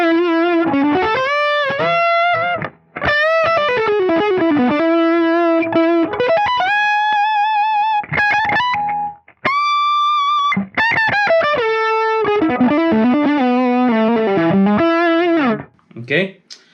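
Electric guitar runs through an Axe FX 3 Zendrive overdrive model, playing bright sustained notes and quick bluesy phrases with short pauses between lines, loud and close.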